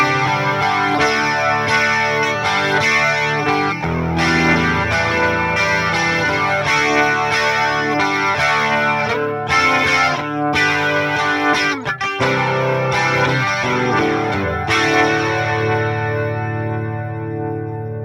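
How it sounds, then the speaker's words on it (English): Electric guitar played through the Fender Tone Master Pro's Triple Double Chorus effect, loud strummed chords with a wide, shimmering chorus wash, steady rhythmic strumming for about fifteen seconds before a final chord rings out and fades. "The Triple Double Chorus is another pedal that has to go after the amp"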